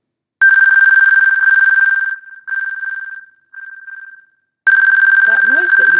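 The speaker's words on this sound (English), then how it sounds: "That noise that you hear is the noise that you would hear that would help you locate the device." An iPad's Find My play-sound locating alert, a loud, steady high electronic tone that pulses in bursts with short gaps, sounding several times up close.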